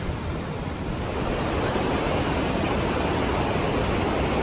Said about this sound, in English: I hear water running.